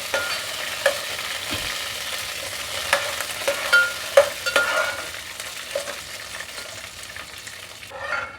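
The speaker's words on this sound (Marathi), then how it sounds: "हे शेंगदाणे तांबूस होईपर्यंत आपण ते भाजून घ्यायचे." Peanuts roasting in a pan for chapati chivda, with a steady frying hiss broken by repeated clinks and scrapes of stirring, moderately loud and without speech.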